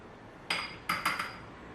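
A teaspoon clinks against a glass while sugar goes in for iced coffee, four quick bright metallic taps, close and otherwise quiet.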